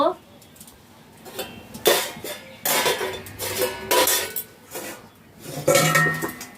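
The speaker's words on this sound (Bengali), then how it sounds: "ঢাকনা দিয়ে দিচ্ছি।" A lid goes onto a pot of simmering chicken topped with coriander leaves, making a few close metallic clanks and rattles amid intermittent talking.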